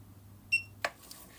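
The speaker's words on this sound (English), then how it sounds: "that beep's annoying, isn't it?" A bench power supply gives one short, clear electronic beep in a quiet room, followed by a soft click.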